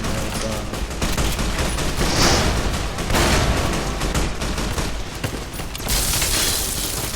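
Dense, sustained gunfire from Fallout: New Vegas, with rapid overlapping shots and booms filling the whole stretch, loud and continuous with no pauses.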